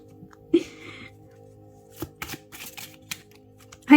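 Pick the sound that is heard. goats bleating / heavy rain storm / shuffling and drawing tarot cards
shuffling and drawing tarot cards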